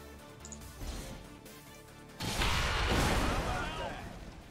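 A loud explosion in the tactical video game XCOM 2 bursts out midway and trails into a rumbling decay, following quieter game sounds with a voice talking over them.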